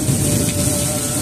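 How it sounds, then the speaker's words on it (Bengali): Heavy rain pours down during a storm at night with the power out, a dense, loud, continuous hiss of falling water filling the whole short stretch, with no voices. "এই পরিমাণ বৃষ্টি 15 বছর বয়সে কখনো দেখি"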